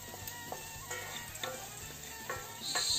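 Onions frying on a Simfer two-plate 2500 W electric hob, a soft continuous sizzle with scattered stirring clicks and scrapes, close by and alone without speech.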